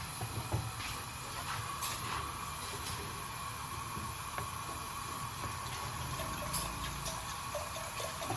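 A jug of water pours over cut potatoes in a wok, giving a continuous hissing, rushing flow with faint clinks that holds steady throughout at moderate loudness.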